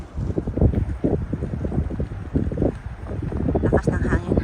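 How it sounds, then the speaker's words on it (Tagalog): Strong, cold wind on a foggy morning in Zurich, gusting and buffeting close to the microphone in uneven rumbling bursts. "Lakas ng hangin."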